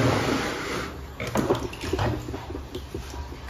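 Water is scooped and sloshed in a container, ready for washing the dirty face of an ondel-ondel figure. Close, splashy pouring and swirling water runs continuously for a few seconds with no talking.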